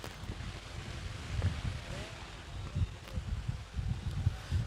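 Strong wind blows across the microphone at an outdoor cricket match between Winning Spartenez and Tats Dark Devils, a continuous low rumbling buffet with gusty surges throughout, loud and close.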